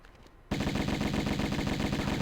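Uzi fire in Tomb Raider Remastered bursts in abruptly after a brief quiet moment, then holds as one loud, continuous rapid-fire rattle of shots to the end.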